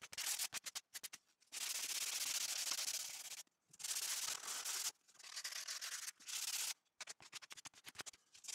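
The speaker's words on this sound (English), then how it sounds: "So there's a little bit of sanding involved to get them nice and smooth and neat" Sandpaper rubbed against a handmade wooden spoon in repeated strokes, with longer steady passes broken by short pauses and quick scratchy rubs, close and quiet, without talking.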